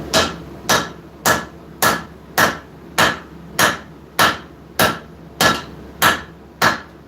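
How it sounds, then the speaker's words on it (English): A hammer strikes hot steel on an anvil while a knife is forged, twelve sharp ringing blows at a steady, even pace, close and loud with no talking. "And I'm swinging towards the edge of the anvil as I'm doing this."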